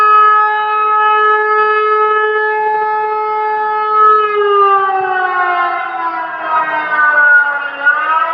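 Blaring loudly, a civil defense siren warns of an approaching typhoon with a sustained harmonic tone that holds level, then slowly falls in pitch and wavers slightly toward the end, with no voices over it.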